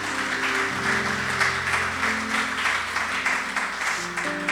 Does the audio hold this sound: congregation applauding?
yes